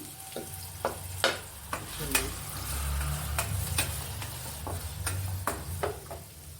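Onion, garlic and ginger sizzle and fry in a pan for a Kerala duck roast, with a steady crackle broken by scattered sharp clicks and scrapes of stirring, close and moderately loud.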